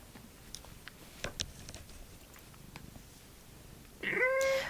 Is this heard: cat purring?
yes